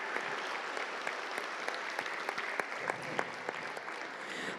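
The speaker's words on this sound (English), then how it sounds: "Let's just give them another round of applause" A crowd at a miniature painting awards ceremony claps for the winners, a steady dense patter of applause with a few sharper individual claps standing out.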